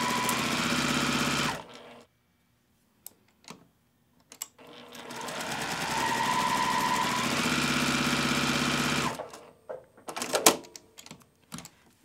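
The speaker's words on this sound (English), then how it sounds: "So I'm going to just sew directly on the line and pull the pin on that side as you sew" A sewing machine chain piecing a quilt block runs in steady mechanical bursts, stopping and restarting between stretches of stitching, with quiet handling noises in the pauses.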